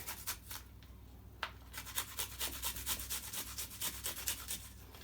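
Garlic cloves grated by hand on a grater while cooking a seafood curry, a close, steady run of quick rasping strokes with a brief pause early on, alone without talk.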